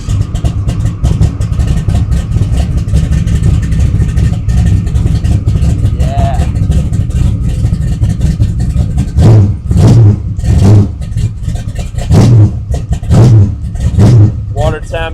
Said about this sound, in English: quick cold start on the Camaro